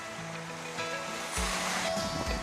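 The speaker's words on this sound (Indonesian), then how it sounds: "Deburan ombak sesekali dapat begitu kencang" Ocean surf washes onto a beach on Semau Island, a steady rushing hiss that swells into a louder breaking wave partway through, heard alone without speech.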